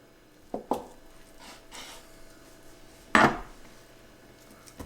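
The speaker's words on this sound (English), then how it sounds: "And then we'll cut it into squares." Tofu being cut into squares on a cutting board, a few sharp knife taps against the board, spaced irregularly with quiet gaps between, close and fairly clear.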